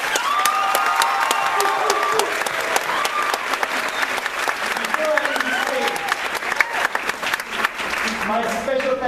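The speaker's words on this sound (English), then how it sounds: "Everybody, please give a big round of applause." Sustained applause from a large audience at a high school graduation ceremony, a dense steady clatter of many hands clapping throughout, with a few cheers and voices mixed in.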